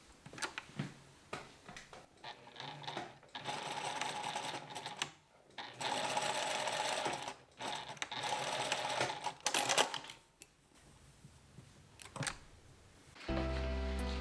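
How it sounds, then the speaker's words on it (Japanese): A sewing machine runs a retaining stitch on knit fabric about 3 mm from a sleeve seam, in several sustained bursts of fast, even whirring broken by short pauses, close and moderately loud with no talk. "この縫い目から3ミリのところに留めミシンをしておきます"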